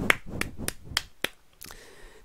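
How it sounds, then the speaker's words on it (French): One person claps their hands at a slow, even pace, about five sharp close claps about a third of a second apart, followed by quiet background noise. "Là j'applaudis."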